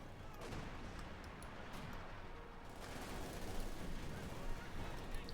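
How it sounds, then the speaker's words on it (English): A 152mm gun-howitzer shelling an enemy base in Company of Heroes 2, a World War II strategy game, heard as a dense rumbling barrage of booms and crackling explosions that grows louder toward the end. "We got the howitzer firing off as well now."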